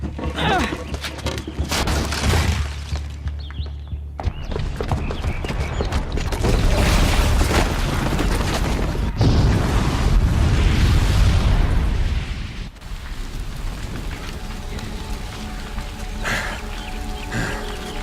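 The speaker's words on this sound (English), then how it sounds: "the booby trap on the bomb downstairs is gonna get set off" A booby-trapped bomb in Horizon Zero Dawn goes off in a long, heavy rumbling blast, with sustained roaring booms and debris noise swelling in the middle and then tapering into lingering crackle.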